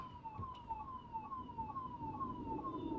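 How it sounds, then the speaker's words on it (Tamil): An ambulance siren wails on a city road, its repeating falling tone steady and fairly close above a busy traffic rumble. "ஆம்புலன்ஸ்க்கு வழி விடுங்கடா."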